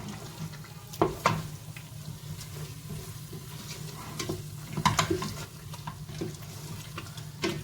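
Tomato and harissa frying in a pan for Tunisian fish couscous: a soft continuous sizzle with a low hum beneath, broken by several sharp clacks and stirring scrapes at irregular moments.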